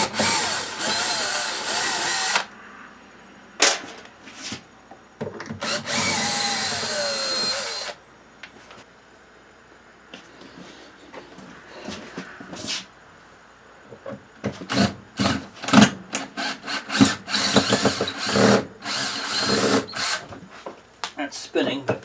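A power drill works at the screws holding an RV fridge, giving bursts of whirring spin between pauses, with short grinding runs and clunks near the end while a person talks in between.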